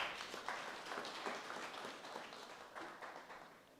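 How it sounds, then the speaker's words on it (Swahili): Applause at a Catholic church self-help group annual general meeting, a faint, even patter of many hands clapping steadily, slowly fading toward the end. "Tumpigie makofi ya uzito."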